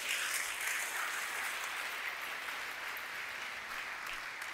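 A church congregation applauds steadily with dense, sustained clapping that fills the space, holding at a fairly even level from start to end.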